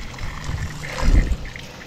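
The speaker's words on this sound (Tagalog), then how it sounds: "Nag-release na ng tubig." Water released from a filled container trickles and splashes out close by, a steady dribble that swells into a fuller gush midway before easing back to a thin trickle.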